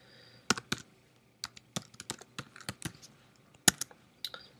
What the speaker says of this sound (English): we're going to type in the product name